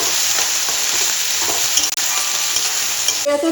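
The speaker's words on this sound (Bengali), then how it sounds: "আদা রসুন পেস্টটা এখন দিয়ে দেবো একটু ভাজা হোক কাঁচা গন্ধতে চলে যায়" Ginger garlic paste fries in a pan for a duck curry, giving a loud, dense, continuous sizzle heard up close with light stirring and no voices.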